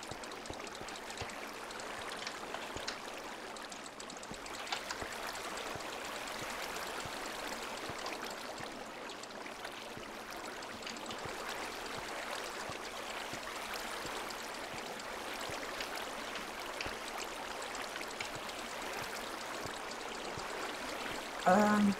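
Steady rushing water flows continuously throughout in Minecraft, a broad even wash with a brief louder burst at the very end.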